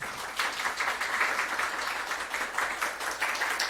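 A workshop audience applauds continuously as a law professor is invited to join the panel, a dense, steady wash of many hands clapping at moderate distance throughout.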